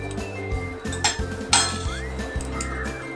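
Roasted peanuts rattle and clatter against a metal strainer as they are sifted, giving a dense, continuous run of close, bright scraping and clinking with sharper accents and no talk.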